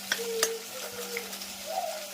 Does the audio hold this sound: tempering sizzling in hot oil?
yes